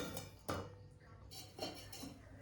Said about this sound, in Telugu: ఇప్పుడు ముందుగా ఫ్యాన్ పెట్టుకొని